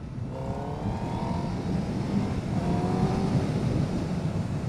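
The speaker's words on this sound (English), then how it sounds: "here I am guys on Honda Fireblade SP, clutchless shifting and downshift, clutchless downshift too." Honda Fireblade SP motorcycle engine running steadily with rising rev tones as it shifts up and down without the clutch, a continuous loud ride-along drone that stays even throughout.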